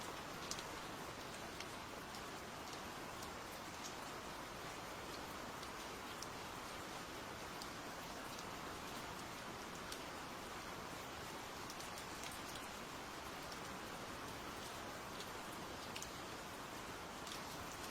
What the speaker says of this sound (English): I also hope that you enjoy the extra rain at the end.